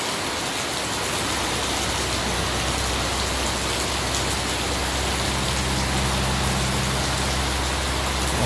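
Steady early-morning rain pours down in a continuous dense hiss, close and unbroken throughout.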